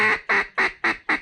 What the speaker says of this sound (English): there's a duck working it like crazy. I think it might be a pintail